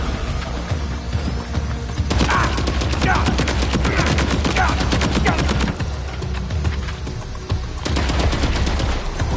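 Rapid bursts of automatic gunfire in the Death Stranding 2 video game, loud sustained volleys with sharp repeated cracks that pause briefly before resuming.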